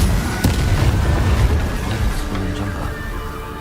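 Confringo fire spells explode over and over in the Hogwarts Legacy video game, a loud, dense rumble of booms with sharp bursts near the start that stays heavy and constant throughout.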